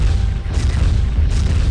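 A tower blows apart in Turok 2: Seeds of Evil, a loud, sustained booming rumble that fills the whole moment and swells again near the end.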